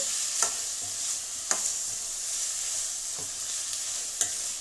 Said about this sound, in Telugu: ఒకసారి కలుపుదామండి